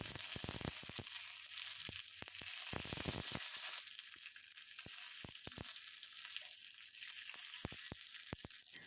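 Curry leaves hit hot coconut oil with mustard seeds for a Kerala okra and tomato ozhichu curry, giving a loud, close, steady sizzle broken by bursts of sharp crackling spits throughout.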